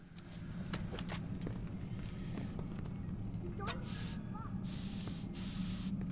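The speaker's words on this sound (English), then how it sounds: "Did I just use up a nice, perfectly good spray on that?" Spray healing item in Resident Evil Resistance, two or three bright hissing bursts toward the end over a low game drone with scattered footsteps.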